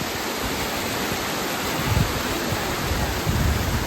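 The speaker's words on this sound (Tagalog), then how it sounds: "A lot of small waterfalls." Multnomah Falls in Oregon, a cold winter setting above the Columbia River, gives a steady broadband rush of falling water with no breaks, with faint low thumps of movement nearby.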